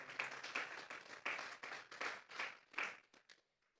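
A church congregation claps hands together as an offering during a Sunday service, a fairly faint run of about a dozen quick, irregular claps that trail off into quiet.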